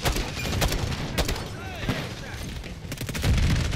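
Gunfire from a JAK Thumper weapon in a video game, with several sharp shots spread across a busy, noisy background of other game sounds and faint talk.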